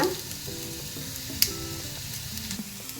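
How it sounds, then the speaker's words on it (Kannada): Potatoes fry on a stove in a quiet, even sizzle, with one sharp click partway through and no voices. "ಆಲೂ ಫ್ರೈ ಆಗಿದೆ, ಆಫ್ ಮಾಡ್ಕೊಂಡು ಬಿಡೋಣ ಸ್ಟವ್"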